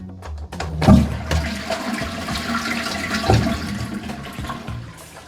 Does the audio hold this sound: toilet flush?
yes